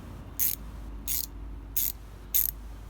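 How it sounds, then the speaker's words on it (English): A 12mm ratchet loosening thermostat bolts on a Miata, four short rapid clicking bursts spaced about evenly, close-up over a quiet low hum. "you're going to be using a 12mm to remove those bolts"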